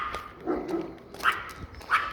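A dog barks a few times in short bursts at moderate distance, with quieter whimpering sounds between the barks and no talking.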